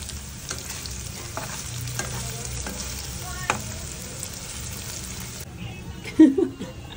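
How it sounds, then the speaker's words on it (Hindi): Paneer frying in a pan, giving a steady low sizzle throughout with a few soft stirring scrapes and a brief louder clatter near the end. "मैंने पनीर भी फ्राई करना स्टार्ट कर दिया है"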